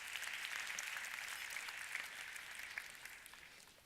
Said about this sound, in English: give a warm round of applause to Sorosh Tavakoli